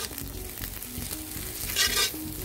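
Onion, beans, carrot, green chilli, curry leaves and coriander sizzle and fry in a pan for potato bonda filling, with a steady crackle and a brief louder burst of stirring, and no talk.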